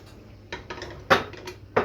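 A few sharp metallic clanks of a cooking pot being picked up and set down, close and brief, in a quiet room, while making popcorn.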